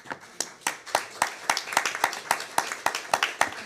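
Scattered hand claps from just a couple of people at a city council meeting, about a dozen sharp, uneven claps close by with a faint room murmur behind them.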